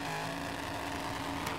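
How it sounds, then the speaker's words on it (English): A car spins its tires while accelerating on a racetrack, giving a steady, loud, unbroken roar of engine and tire noise with no break for the whole moment. "It's spinning the tires. It makes a lot of noise, it vibrates, but it doesn't go very fast."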